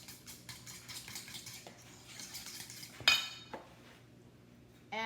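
A utensil stirs and clinks against a bowl as eggs are mixed lightly for protein pancakes, with soft scraping taps, a sharp louder clink midway and another knock at the end.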